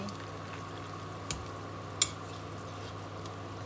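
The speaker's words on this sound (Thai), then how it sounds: "ต้มมะระของเราก็ เดือดใกล้สุกแล้วค่ะ" Thai stuffed bitter melon soup with pork and glass noodles simmering in a pot, a faint, steady bubbling hiss with a couple of soft knocks, close and quiet, no talking.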